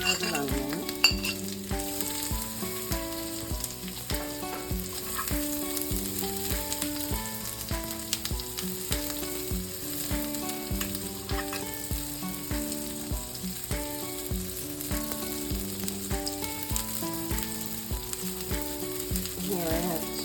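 About a quarter of an onion, chopped, fries in butter in a pan for a spicy omelette, a soft steady sizzle running the whole time beneath prominent background music, with occasional light stirring clinks.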